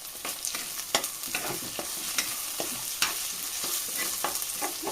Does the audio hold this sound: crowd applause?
no